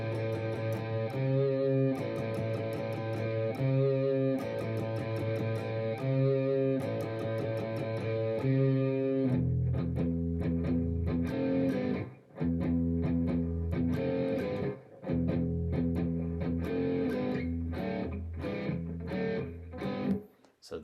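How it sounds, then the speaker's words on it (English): Electric guitar with distortion playing a riff, a repeated chugging phrase that shifts into choppier, punchier stabs, loud and alone without talk. "there's like a little riff right before we go into our first little solo part."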